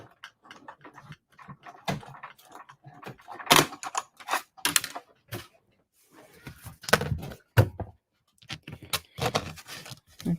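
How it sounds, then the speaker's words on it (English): An embossing folder is cranked through a die cutting machine for a dragonfly greeting card, giving a run of irregular clicks, clunks and rattles at close range, with short quiet pauses between bursts. "let me run this through the die cutting machine"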